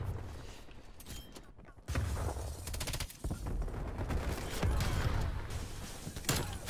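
Rapid bursts of gunfire crackle through a Call of Duty Cold War match, sharp repeated shots in quick clusters with a few sparser cracks, fairly faint under game ambience and no talk.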